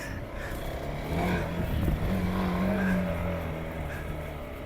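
A TVS Apache RTX motorcycle riding an off-road trail in the hills, its engine a steady low drone that swells midway, close and continuous with no talk.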